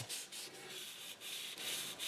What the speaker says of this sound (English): So this wet sanding evens things out